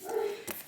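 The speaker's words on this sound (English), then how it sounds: "My dog's barking." A pet dog gives a single short bark indoors, with a brief yelp after it, close and fairly loud with no talking.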